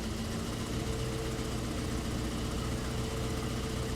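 A 1965 Ford Mustang Fastback with a 225-horsepower 289 V8 idles steadily, a constant low, even rumble with a faint hum running throughout, close and unbroken.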